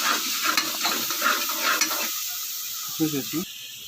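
Onions and green chilies sizzle steadily in a pan for a spicy chicken liver curry, with a spoon stirring and scraping through the hiss, close up, with a few clinks near the end.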